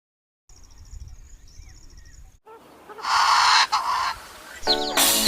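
Desi hens on a free-range poultry farm, with faint repeated clucks and calls at first, then a louder burst of mixed squawking and flock noise in the second half.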